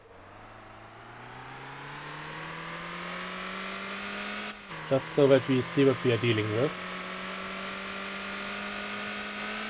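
Light, entry-level Formula SCM race car from Motor Town, its engine droning steadily and climbing gently in pitch before a short burst of choppy revving, with someone talking over it.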